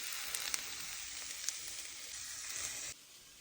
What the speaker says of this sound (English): My stir fry is almost done.